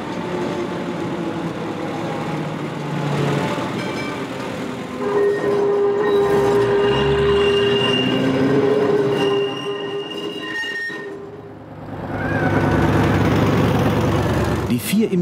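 A streetcar runs along city rails in postwar occupied Austria: a loud, steady rumble of wheels and carriage with high metallic squeals, dipping briefly and then swelling again toward the end.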